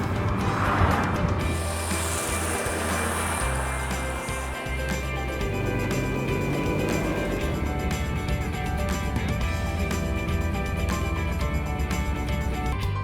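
A car drives along Norwegian fjord and mountain roads near Røros, its steady engine and road rumble continuous and close throughout, with occasional bumps and a brief high whine early on.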